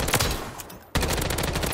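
Rapid automatic gunfire from an MCW rifle in a sniper support loadout in the Warzone video game, loud bursts of sharp shots, a brief pause near the middle, then continuous firing resumes.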